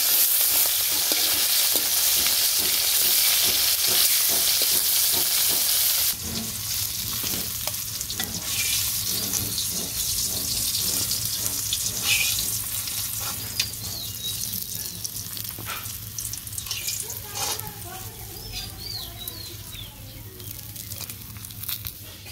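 Vegetables sizzle and fry steadily in a pan during village-style cooking of a light fish curry, a loud dense crackle at first that settles into a softer continuous sizzle with occasional stirring scrapes and clinks.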